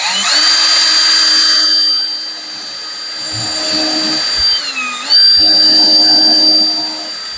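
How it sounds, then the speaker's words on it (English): A power drill whines steadily while boring holes at an angle around a solar panel switch gear box, the motor pitch dipping under load and rising again, loud and close, no talking. "We can go ahead and use this drill"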